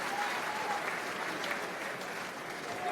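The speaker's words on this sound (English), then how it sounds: "A warm applause for Jack Noel" A stadium crowd at a Premiership rugby match between Exeter Chiefs and Leicester Tigers applauds a departing player, a steady wash of distant clapping that holds evenly throughout with no clear voices on top.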